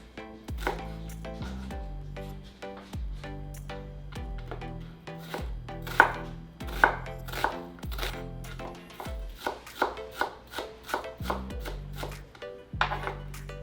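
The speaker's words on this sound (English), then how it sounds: "The one that we're going to cook our shrimps with, we're going to chop it into small pieces." A knife chops an onion into small pieces on a cutting board: crisp, rapid, evenly spaced strikes in bursts, close by, over soft background music.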